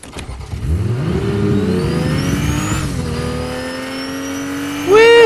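A car in the video game Fortnite drives off and revs. The engine drone climbs steadily in pitch and holds at a high, loud whine, ending in a brief bright tonal burst.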